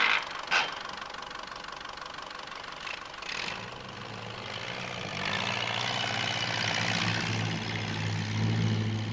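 Ferguson TE20 tractor engine running steadily, a low droning hum that grows louder and fuller after the first few seconds, with a couple of faint knocks early on and no voices.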